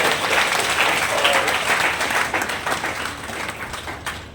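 An audience at a free coaching centre event in Udaipur claps loudly to welcome the Arya Samaj president. The dense, steady applause fills the room and fades slightly toward the end.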